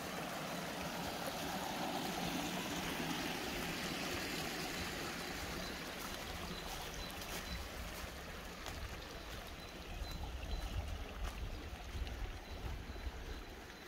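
Stream flowing through the Emmental countryside on a hiking route, a soft continuous burble and trickle of water heard nearby, steady throughout with no talking.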